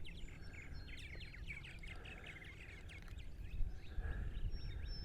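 Purple martins chattering at a colony on eastern Long Island, New York in summer: dense, continuous overlapping chirps and warbles, moderately distant, over a steady low rumble of wind or background noise.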